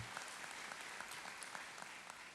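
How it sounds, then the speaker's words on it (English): Steady audience applause at a high school graduation ceremony honoring the school board, a dense, even wash of many hands clapping throughout, fairly distant and moderate in level. "A round of applause for the school board."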